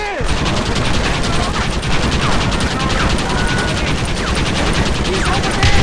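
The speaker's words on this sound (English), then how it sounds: "For Christ's sake, John, start shooting! Why are they all shooting at me?" Rapid machine-gun bursts and scattered shots crackle continuously in a Red Dead Redemption western shootout, loud and dense, with character voices shouting over the gunfire.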